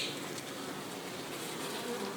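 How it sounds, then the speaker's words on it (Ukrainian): A steady, dense buzz of many honey bees hums continuously around the listener in the rain, close and unbroken, with no speech. "Подивимося тут чим бджола зла"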